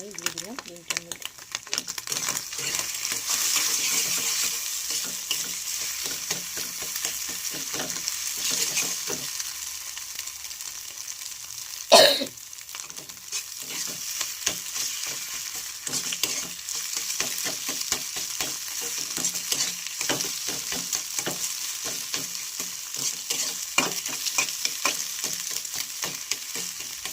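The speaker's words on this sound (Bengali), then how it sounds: "ডিম ভাজাটা আমার হয়ে গেছে।" Beaten egg with a little salt fries in a pan, a steady hiss and crackle of sizzling oil running throughout with occasional scraping and stirring, and one sharp knock partway through.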